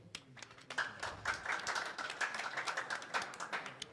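An audience claps together at a gathering of doctors and government officials, with dense, steady applause continuing throughout at moderate loudness.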